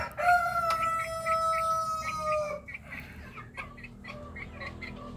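A Brahma rooster crows loudly and close by in one long drawn-out call, followed by hens clucking in short bursts around a farm yard.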